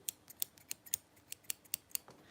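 Sewing scissors snipping at close range: a quick irregular run of about a dozen sharp, crisp cuts, quiet and alone with no talking.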